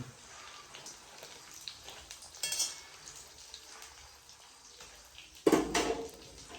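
Dry dates (kharik) roasting in a home pan produce a faint, steady crackle with a few scraping stirs and a louder clatter of the pan near the end.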